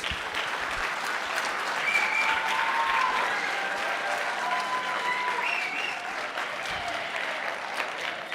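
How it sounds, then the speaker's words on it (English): Sustained applause from a large high school audience at a presentation, steady and fairly loud, with a few scattered voices and cheers mixed in. "big round of applause for our speakers"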